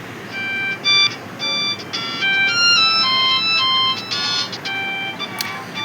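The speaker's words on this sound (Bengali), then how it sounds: "এখানে রিংটোন পাচ্ছ, তোমাদেরকে শোনাই। স্পিকারটা আসলে অনেক লাউড।" A Symphony D89 keypad phone's loud speaker plays a ringtone as a chirpy electronic melody of quick high notes that rise and fall in repeated phrases, close and clear with no voices.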